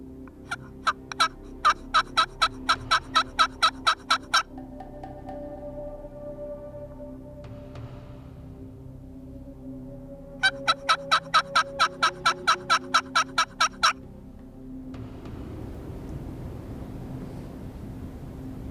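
Wild turkeys gobble in two separate bursts of rapid, repeated gobbles, fairly close and loud in a quiet outdoor hunting spot, with a low rumble of background noise between the bursts.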